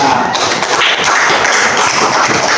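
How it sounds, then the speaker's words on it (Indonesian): Loud, dense applause from a group of students clapping together for a classmate, a continuous close rattle of hands lasting the whole moment. "kita beri tepuk tangan untuk Maria"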